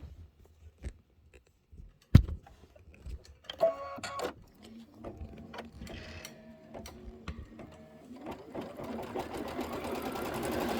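An embroidery sewing machine stitches a Kimberbell design, starting with sparse clicks and taps that turn into rapid mechanical ticking and building to a steady, dense whir near the end, close and alone.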